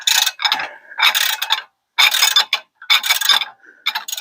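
Wrench working a tie rod ball joint nut on a Buick Encore, a series of close, sharp ratcheting bursts separated by short pauses.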